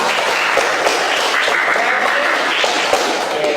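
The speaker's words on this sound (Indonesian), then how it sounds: "Kasih tepuk tangan dulu untuk bintang." Classroom applause for a student, a steady wash of clapping from a group with a few voices mixed in, moderately loud throughout.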